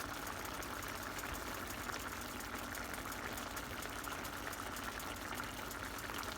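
Chicken tinga sauce bubbles in a pot at a steady boil, a faint, even wash of simmering and popping with no pauses or talk.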